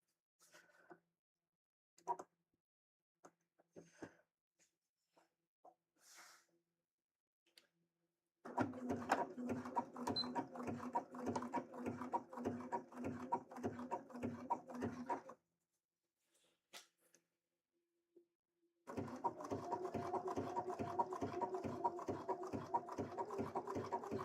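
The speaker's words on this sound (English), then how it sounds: "So I'm just going to go with a regular zigzag stitch and we'll see how that does." A domestic sewing machine runs a zigzag stitch in two long bursts of rapid, rhythmic needle chatter, close and clear, separated by quiet stretches with scattered clicks and handling noises.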